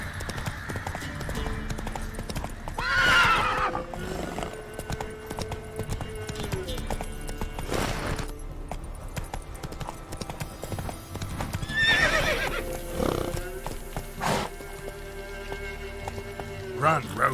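Horse galloping in The Witcher 3 video game, rhythmic hoof clip-clops with snorts and neighs, mixed with game effects and brief voices.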